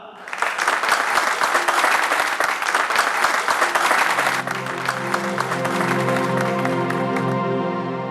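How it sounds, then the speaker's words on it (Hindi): An audience bursts into loud, busy applause with a few cheers to welcome a stage play in a TV crime drama episode, then the clapping thins as sustained dramatic music swells in and carries the final seconds. "तो एक बार जोरदार तालियां हो जाएं हमारे इस प्ले के लिए"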